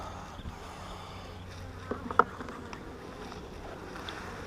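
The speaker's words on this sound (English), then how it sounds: "So I may actually have a few angry, aggressive bees." Angry honey bees buzz around an open hive, a faint continuous drone with a few louder passes near the microphone and a couple of soft knocks midway.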